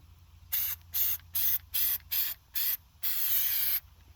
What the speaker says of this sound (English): I'm just going to do a little bit here just to show you how it sprays on.